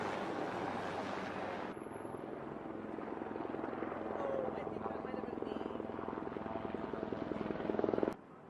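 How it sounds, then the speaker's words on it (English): A helicopter over the Tijuana border area gives a loud, steady rotor thump and engine roar that holds throughout and then cuts off abruptly near the end. "Chopper right here."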